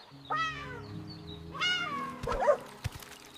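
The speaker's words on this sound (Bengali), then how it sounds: "ছোট্ট শান্ত গ্রামে থাকত এক দুষ্টু বিড়াল।" A mischievous cartoon cat from a small, quiet village meows twice, clear and close, followed by a short clatter of light knocks.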